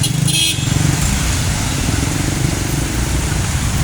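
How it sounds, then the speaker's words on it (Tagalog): Heavy traffic crawls along a flooded road in Quezon City, motorcycle engines droning close and continuous with a short horn blast near the start, a steady dense rumble throughout. "ayun sobrang traffic yan"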